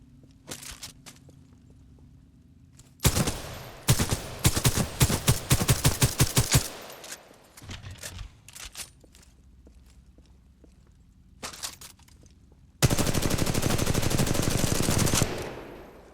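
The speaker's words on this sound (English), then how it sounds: "I want to try the wingman. It's like a revolver." Heavy Wingman revolver shots from Titanfall 2, booming in dense bursts of rapid rounds, then scattered single shots and a final sustained stretch of loud fire, with quieter gaps of ambient game noise between.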